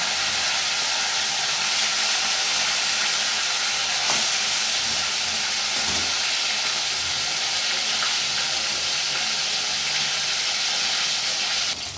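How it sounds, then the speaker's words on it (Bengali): Fish pieces sizzling in hot oil in a home kitchen, a dense, steady hiss of frying that continues evenly throughout without pause. "তেলটা গরম হয়ে গেছে, একটা করে মাছ ছেড়ে দিচ্ছি"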